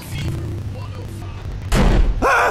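Uzi gunfire in the video game GTA Vice City, a short loud burst of submachine-gun shots at the end, preceded by game background noise.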